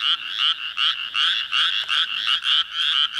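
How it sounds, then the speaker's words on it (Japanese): A small frog on a road at night gives a rapid series of about a dozen loud, close, pulsing croaks in a steady rhythm, heard alone. "カエルの声がするんだけど、"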